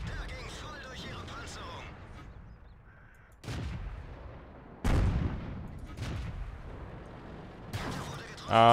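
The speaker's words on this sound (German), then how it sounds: "was hat denn der von hinten geschossen?" Tank cannon fire in World of Tanks, a T-34 battling near a KV-1S on the Westfield map: a few loud, sharp gun blasts, some with rumbling decay, over continuous game noise and someone talking.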